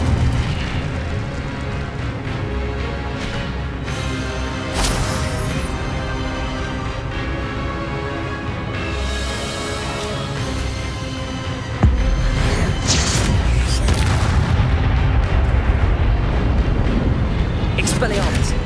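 An Incendio fire spell is cast in the Hogwarts Legacy video game on PS5. It comes as bursts of fiery whooshes and booms in a busy, loud stream of combat effects, with a voice calling out over them.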